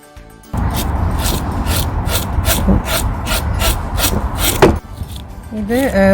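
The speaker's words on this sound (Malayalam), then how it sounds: "ഞാൻ ആദ്യം ഇതിൻ്റെ സ്കെയിൽസൊക്കെ ഒന്ന് കളയാണ്." Rhythmic rasping strokes of scales being scraped off a freshwater Scottish salmon, steady and close for about four seconds, followed by a brief clatter and a short pause; a voice speaks faintly at the end.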